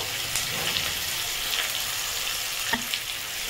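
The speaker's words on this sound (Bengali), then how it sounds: "কালো জিরে কাঁচা লঙ্কা টমেটো ফোড়ন দিলাম, দিয়ে তেলের মধ্যে একটুখানি নাড়াচাড়া দেবো, ভালো করে ভেজে নেব।" Black cumin seeds, green chili and tomato fry in hot oil, a steady close sizzle with a few light stirring knocks and no talking.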